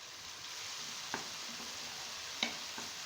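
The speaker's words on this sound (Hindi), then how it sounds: "अब हम इसमें दही डालेंगे।" Spiced yogurt stirred into an onion-tomato masala for Kashmiri dum aloo curry, a faint, steady sizzle with a couple of small clicks from the spoon.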